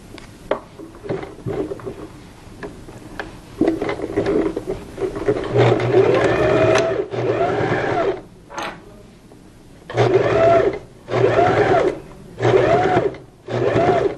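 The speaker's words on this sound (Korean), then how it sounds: "지금 우리는 지금 파이핑 바로 가까이 박음질을 하고 있거든요." Sewing machine stitching close to the piping on a double-ruffle two-person pillow, a close, loud rapid mechanical whirring in several bursts separated by short pauses, with light clicks before it starts.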